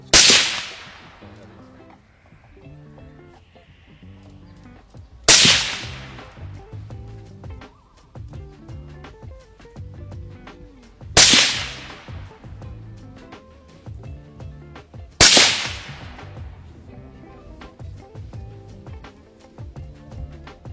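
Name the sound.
Troy Mark 11 sniper rifle gunshots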